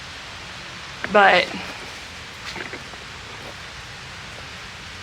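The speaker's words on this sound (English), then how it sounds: "Okay guys, it started raining." Steady rain falls outdoors as a constant broadband hiss, with a person briefly speaking over it partway through.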